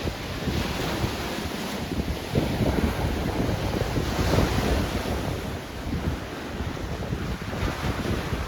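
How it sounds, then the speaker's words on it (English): Waves splash against the shore of Lake Victoria on a rough day, a continuous, loud wash of surf with wind buffeting the microphone and no voices. "the sounds of waves splashing against the shore is quiet and serene"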